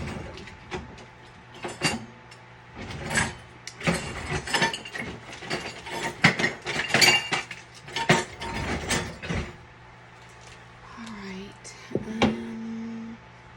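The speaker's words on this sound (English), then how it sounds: "I forgot to put my paddle attachment on there" A paddle attachment clicks and ratchets into place on a stand mixer in a home kitchen while gluten-free bread is being made, with a run of close, sharp mechanical clicks and clatter, then a brief hum near the end.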